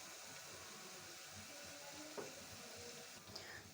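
Garlic and ginger frying in a pan, a quiet, steady sizzle with a couple of faint stirring clinks.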